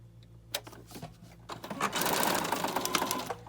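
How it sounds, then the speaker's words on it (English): Sewing machine running a straight stitch around a paper envelope for a junk journal collage, a few short taps and starts, then a continuous fast mechanical whir close by. "And I'm just going to sew around."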